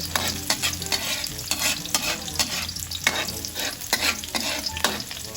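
Garlic sautés in a hot frying pan (kawali) while being prepared for squid in coconut milk; a continuous sizzle runs beneath repeated scraping strokes of a spatula stirring close by.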